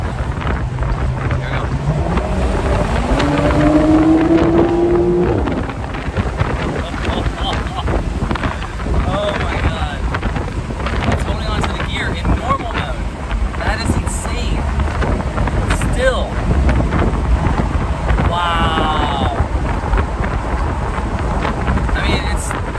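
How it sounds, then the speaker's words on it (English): A 2022 Porsche 911 GTS six-cylinder engine accelerating onto a highway, a loud rising engine note climbing through gears in the first few seconds, then a steady cabin roar mixed with wind noise. "It's gotta be the best 6-cylinder engine on the planet."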